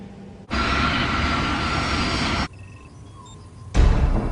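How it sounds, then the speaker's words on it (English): Aircraft engines roar loudly while a plane approaches Zurich Airport at night, in sustained bursts broken by abrupt quieter gaps with faint tones. "As the aircraft approach the runway"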